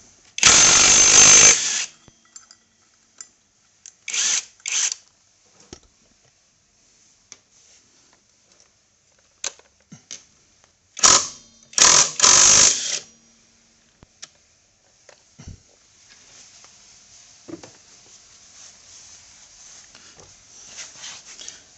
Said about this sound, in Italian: e il gruppo frizione utilizzerò una pistola a percussione